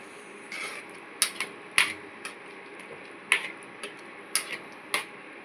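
A spoon stirring egg dal taps against the sides of a pot in sharp, irregular metallic clicks, about a dozen distinct knocks, fairly close and clear over a quiet background.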